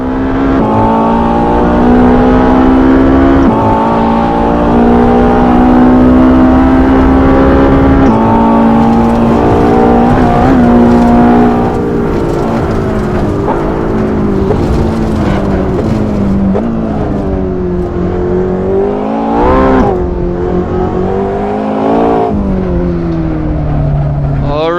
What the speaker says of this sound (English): so you can hear this turbocharged V8 behind me